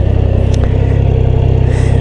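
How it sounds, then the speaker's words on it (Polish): Triumph Tiger 660 motorcycle engine revved at full throttle, a loud close raspy roar with fast pulsing firing beats held throughout, alone with no talk. "zobaczcie, całą manetkę odkręcam, a posłuchajcie silnika"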